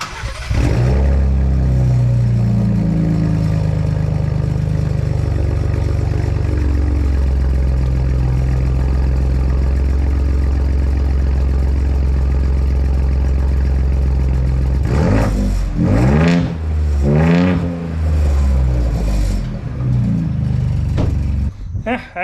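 A Ford Bronco engine cranks and fires up, settling into a loud, close, steady rumbling idle, then revs several times in quick bursts before easing back down.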